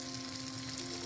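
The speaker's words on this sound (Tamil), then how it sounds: "நல்லா பொரிப்படைக்குது" Dried fish frying in hot oil for a curry, a steady, close, even sizzle and crackle running throughout the short moment without any voices.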